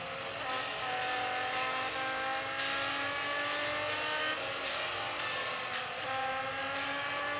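Race car engines in the Real Racing 3 video game, a steady loud droning whine of engines at high revs held continuously with shifting harmonic tones and no talk.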